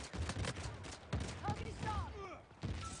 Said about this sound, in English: There's a lot of explosions there.